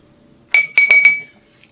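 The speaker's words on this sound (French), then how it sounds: "on va pouvoir mélanger nos deux ingrédients" Lime water and other ingredients are mixed in a glass container, producing four quick bright clinks close by in under a second, then quiet.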